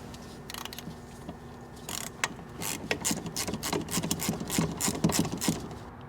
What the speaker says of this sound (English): they're 11 millimeters on the socket on these, but we'll undo these